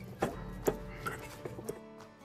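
Bananas are mashed with a fork in a large bowl, a series of soft squelching presses and taps against the bowl at an uneven rhythm, close up, with no talking.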